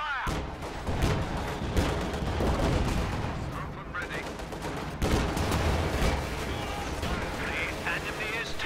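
Dense gunfire and artillery blasts from a World War II strategy game battle, with repeated sharp shots and booming impacts running continuously, loud and close, under an excited commentator's voice.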